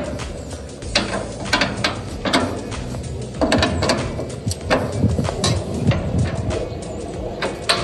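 A cam adjuster on an Advantage livestock feeder being tightened, producing a steady run of sharp metallic ratchet clicks and clanks with a few heavier knocks, loud and close, no talking.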